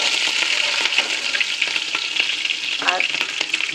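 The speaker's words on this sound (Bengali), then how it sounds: "প্রথমে আমি এর মধ্যে রসুন কেটে দিচ্ছি, আদা কেটে দিব, দিয়ে আমি বেশ কিছুক্ষণ একটু নাড়াচাড়া করবো।" Chopped garlic and ginger sizzle steadily in a hot pan for chicken fried rice, with occasional scraping stirs cutting through the constant close frying hiss.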